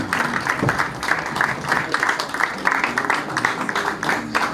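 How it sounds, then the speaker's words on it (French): Audience applause at a dinner gala as a singer walks to the stage, a moderately loud, slightly uneven patter of clapping that continues throughout. "Elle peut avancer sous vos applaudissements"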